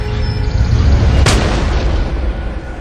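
A single sharp rifle shot from a Revolutionary War-era Patriot marksman's long rifle cracks once near the middle, standing out loudly against a dense, rumbling ambient background.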